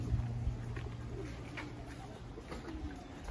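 Homing pigeons coo softly in low, repeated murmurs against a faint steady background hum, fairly quiet and close by.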